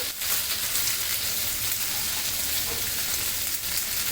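Meat and potatoes frying in a pan for a spiced curry, a steady dense sizzle that holds close and fairly loud from start to finish with no voices.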